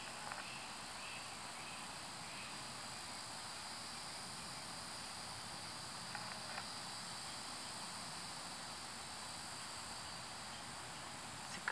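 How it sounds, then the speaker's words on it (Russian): Cicadas sing outdoors under dark storm clouds before a thunderstorm, a continuous high-pitched buzzing drone that holds steadily throughout over faint background hiss. "Цикады поют."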